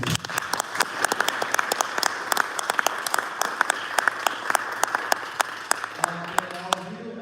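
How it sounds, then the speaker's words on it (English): Sparse audience applause for a panel at a passive income investing event, a small group clapping unevenly, sharp separate claps close by that thin out toward the end while a voice talks underneath. "Round of applause for our panel, please."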